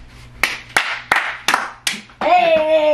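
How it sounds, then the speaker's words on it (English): Five sharp hand claps at a steady, slightly uneven rhythm, close and loud, followed by a sustained tonal voice or sound at the end. "I can make a clap"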